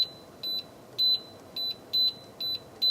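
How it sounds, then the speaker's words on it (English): A Tuni G2 coffee grinder beeping: six short, evenly spaced electronic beeps at a moderate, fairly soft level, each about a fifth of a second long, with no talking. "So the beeping is actually a little bit softer on the G2"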